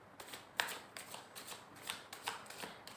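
Tarot cards are shuffled and drawn by hand, quiet crisp riffling bursts recurring in a loose rhythm, close and soft with no talking.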